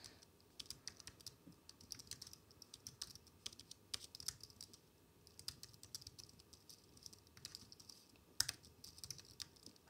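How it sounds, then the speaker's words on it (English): Quiet, steady clatter of keystrokes on a computer keyboard, fingers typing in quick irregular bursts with brief pauses, close and alone with no talk. "I found I can't type and talk at the same time."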